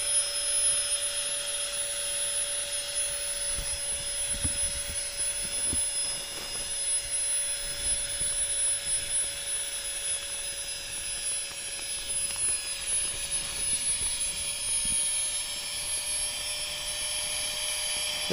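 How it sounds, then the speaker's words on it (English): A small electric air pump inflates a sleeping mat at a wild camp in the Lake District, giving a steady, continuous motor whine with a constant high tone that holds level throughout, close by and alone. "There's the pump changing note, so I know that my mat is fully inflated."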